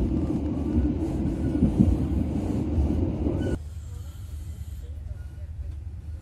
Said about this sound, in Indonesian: akhirnya KA Serayu tiba juga di stasiun Tasikmalaya